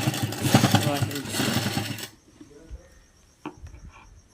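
A sewing machine runs steadily for about two seconds, stitching lace in a round underground pattern onto fabric, then stops, leaving near silence with a faint tap.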